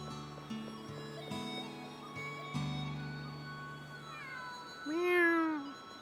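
A cat meows several times in the video game Suikoden V, with rising, drawn-out cries near the end over a steady game music background.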